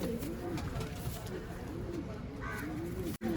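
Madrasi pigeons in an SF pigeon loft coo in soft, rolling, repeated calls beneath someone talking close by. Steady, low-level background noise runs throughout.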